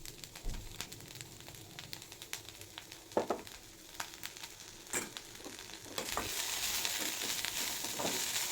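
Broccoli fries in oil in a home pan with an uneven crackling sizzle and scattered stirring clicks, then swells into a louder, denser hiss near the end.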